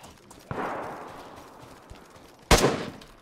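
Two gunshots in the DayZ video game, each a sharp crack with a fading tail, the second louder, separated by about two seconds of quiet.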